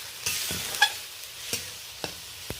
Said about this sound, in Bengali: এই পর্যায়ে বন্ধুরা অল্প জল দিয়ে দিচ্ছি